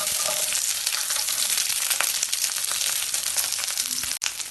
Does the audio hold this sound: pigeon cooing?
no